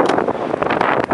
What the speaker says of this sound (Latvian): Šādi bagies vējš.